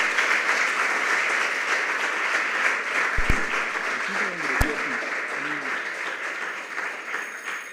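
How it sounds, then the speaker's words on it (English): Students at a junior high school quiz competition applaud loudly and steadily, a dense wash of clapping from a large room, with a couple of sharp knocks and some voices mixed in. "Give yourselves a round of applause."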